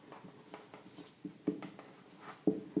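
Chalk or marker writing notes on a classroom board during an electrostatics lesson, a soft scratchy run of strokes with a few sharper taps, close and fairly quiet with no talk.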